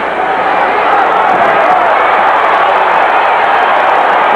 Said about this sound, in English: Crowd got whipped up a little bit as Larry almost lost his footing